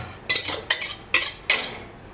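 Large pieces of fish are stir-fried in a pan, four sharp metallic scrapes of the spatula against the pan at an uneven rhythm over a quiet background, with no talking.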